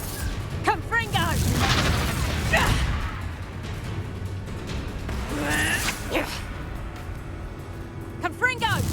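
Confringo fire spell blasts in Hogwarts Legacy amid combat, a series of booming whooshes and crashes scattered through the clip, with voices speaking between and over them.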